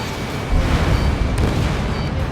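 A SAM site blows up in the combat flight game Ace Combat 7, a sustained loud boom with a deep low rumble that swells after a brief lead-in and holds for about two seconds.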